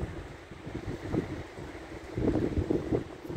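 Mistral storm winds near Saint-Rémy-de-Provence gust at up to 110 km/h, buffeting the microphone with low rumbling surges that swell and ease, the strongest push arriving in the second half.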